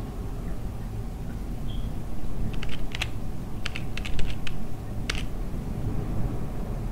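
Keyboard typing in the video game Amanda the Adventurer: crisp key clicks in short irregular bursts over a steady low background hum, with no one talking.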